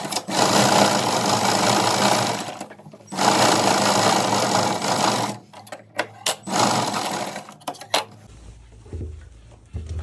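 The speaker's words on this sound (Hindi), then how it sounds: "अब इसके ऊपर एक टॉप स्टिच लगाएंगे" A sewing machine runs close and loud, top stitching a blouse in long continuous bursts with short stops, then a few brief stuttering runs before it falls quiet.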